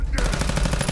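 Rapid, loud bursts of gunfire from explosive 10mm rounds in Fallout 4, a fast rhythmic volley at close range.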